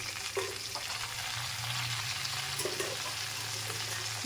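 Fresh pumpkin leaves go into a pan of frying, partly boiled potatoes, giving a soft, steady sizzle with faint watery crackles and occasional stirring. The sound is fairly quiet and there are no voices.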